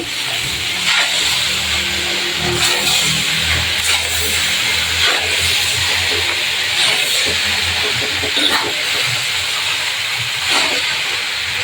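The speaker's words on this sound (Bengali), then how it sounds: "আমাদের নুডলস এসে গেছে, এই যে এখন আমরা ঢেলে দিলাম" Noodles are poured into a hot wok, setting off a loud, continuous steamy hiss and sizzle with occasional sharper bursts of crackle, and no voices heard.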